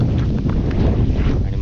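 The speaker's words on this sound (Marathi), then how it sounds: "फक्त छत्री घेऊन चालण्यात काही पॉईंट नाही आहे, खूप वारा सुटला आहे." Strong wind roars across the microphone outdoors during rain on an open plateau, a loud, continuous buffeting rush with no clear voices.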